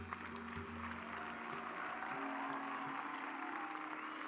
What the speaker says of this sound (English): So I request you to kindly applaud them.